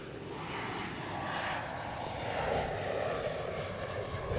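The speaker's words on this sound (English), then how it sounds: "Next one up here for landing is an E170 for hop." Embraer E170 airliner on landing approach at Schiphol airport, a steady broadband jet engine roar that swells slightly as it passes, continuous and fairly loud with no talk.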